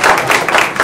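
Short burst of dense audience applause at a community forum, steady and loud throughout with no talk.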